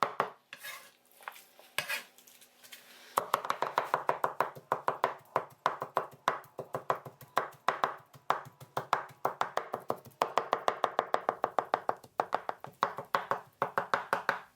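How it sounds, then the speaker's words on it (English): Prawns being chopped finely with a knife on a board: a few slow strokes, then rapid steady rhythmic chopping, close and crisp, with short pauses between bursts and no talking. "With this dish, the prawns has to be chopped very finely."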